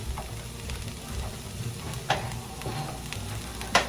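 Steady frying hiss with crackling pops and a couple of sharper spits as barbecue-sauced pork sizzles in a skillet, close by, with no talking.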